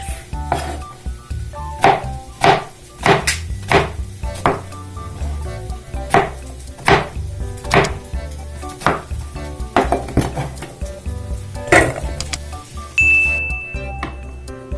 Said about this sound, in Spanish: las vamos a picar en cubos ni tan grandes ni tan chicos, van a ser medianitos